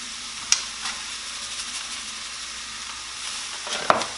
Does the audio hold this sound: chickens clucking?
no